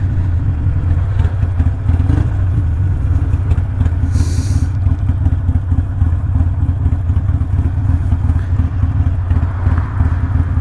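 A Harley-Davidson motorcycle with a Stage 1 Screamin Eagle Pro Tuner map runs at a steady, loud, close idle with a lumpy rumbling beat and a brief clatter partway through.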